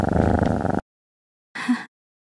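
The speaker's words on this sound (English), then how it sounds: "They get you to submit to the purr." A cat purring in two short stretches: first a steady, close rumbling purr of under a second, then a silent gap, then a brief softer burst.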